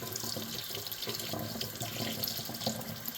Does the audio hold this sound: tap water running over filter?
yes